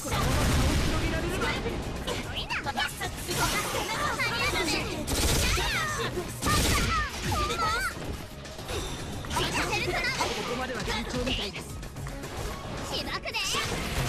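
Missiles fire in the fighting game Persona 4 Arena Ultimax, a dense barrage of explosive bursts and crashes layered over busy game sound, with excited voices talking throughout.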